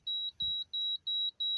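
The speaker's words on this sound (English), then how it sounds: "the beep actually continues and increases the frequency" A seat belt reminder in a Mazda 626 beeps in a steady series of short, high, clean tones, about seven evenly spaced chirps that come slightly faster over time, with a quiet background.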